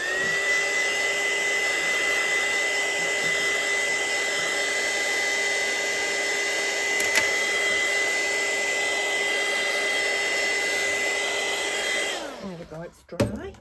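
A heat tool blows hot air over a mixed media journal page, a loud steady whirring hum close by, then it switches off and winds down near the end with a few handling knocks.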